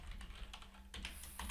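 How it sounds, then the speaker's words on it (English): Rapid clicking of keys on a computer keyboard as a name is typed into a task-list app, close and quiet, a quick burst of keystrokes. "entering a name"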